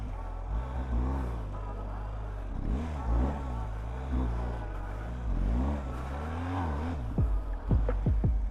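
BMW R1250GS motorcycle ridden slowly over gravel and small loose stones, its engine rising and falling in pitch with clutch work, then a few sharp quick revs near the end; close and fairly steady.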